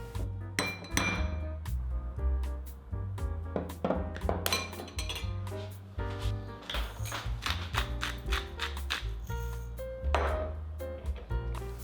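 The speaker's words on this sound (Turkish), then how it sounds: "Bir kasede bir çay kaşığı sarımsak, bir tutam tuz ve biraz susam yağı ile karıştırın." Garlic, salt and sesame oil are stirred together in a bowl for a bibimbap dish, with repeated close clinks and taps of a utensil against the dish in an uneven rhythm.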